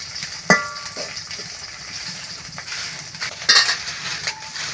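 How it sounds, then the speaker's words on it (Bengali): Dried loitta fish frying in oil with onion and garlic sizzles steadily in a steady, moderate hiss, broken by a few sharp clinks and scrapes of a utensil stirring the pan. "এই পেঁয়াজ রসুনের সাথে আমি শুটকি মাছটা ভাজা নিতেছি।"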